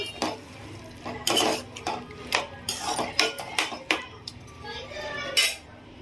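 Mango pieces fried and stirred in a pan with curry leaves, a metal spoon scraping and knocking against the pan in irregular clinks and taps over a low background, close and moderately loud.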